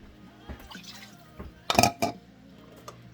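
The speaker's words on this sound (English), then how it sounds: "I'll add a tiny bit of water and just finish that one up." Small splashes of water and vinegar are poured into a glass canning jar of dilly beans, a few brief liquid bursts and drips with a louder pour in the middle, near and otherwise quiet.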